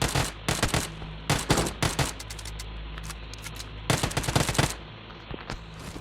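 Gunfire in the mobile battle royale game PUBG Mobile, with rapid automatic bursts in several clusters separated by brief pauses, loud and close.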